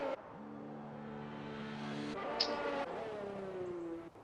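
A racing car pulls out of the pits on its out-lap, its engine droning steadily then stepping up through gear changes with rising whines, fairly close and clear with no talk.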